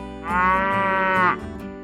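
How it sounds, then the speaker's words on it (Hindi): A single cow moos once, a long, loud, close bellow with a steady tone that lasts about a second before trailing off. "वो अम्बा की आवाज करते हुए दौड़कर उसके पास आता था।"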